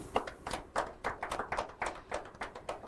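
Audience clapping at an inter-school quiz competition, a brief patter of individual hand claps with uneven rhythm, fairly close and modest in volume, with no talking.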